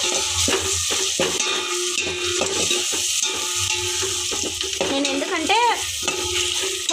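Ginger garlic paste and coriander fry in a pan while being stirred for bagara rice, a loud, steady sizzle under repeated scraping strokes of the spoon against the pan.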